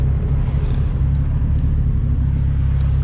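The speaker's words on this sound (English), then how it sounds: "So here's just a quick montage of it driving down the road." An SVO car drives down the road with a steady, loud low engine drone and road rumble throughout, close and with no voices.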